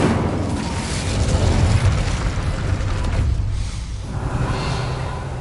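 Fire spell blast cast in the video game Hogwarts Legacy, a loud, sustained booming roar lasting several seconds with a brief dip near the end, with no talking.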